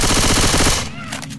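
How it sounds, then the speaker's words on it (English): Shotgun blasts in the Left 4 Dead 2 video game, a rapid burst of loud close shots that cuts off abruptly and leaves a short decaying tail. "This shotgun thing's so much more powerful."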